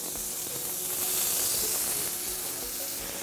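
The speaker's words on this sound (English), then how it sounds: "What I wanna do is move these over and get this bacon sizzling on them." Bright, steady sizzling and hissing of bacon frying on a hot grill beside elk skewers, with faint crackles and a low background rumble.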